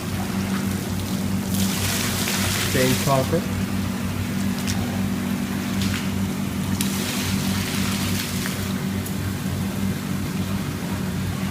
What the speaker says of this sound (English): We let the water runs on it.